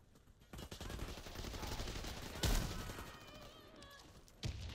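Gunfire in the first-person shooter game Warface, bursts of shots and a couple of sharp loud blasts over a busy, noisy game soundscape.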